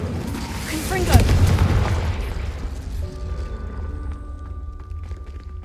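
A Confringo blasting curse in Hogwarts Legacy sets off a booming explosion that peaks early and rumbles away over several seconds, with a spoken voice heard at the start.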